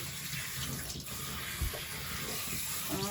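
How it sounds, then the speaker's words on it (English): Steady running water from a tap rinses soap off a dog during a bath. A constant close splashing flow continues without a break, with faint sloshing underneath. "Just rinsing her off. Start at the top, so all the soap runs off."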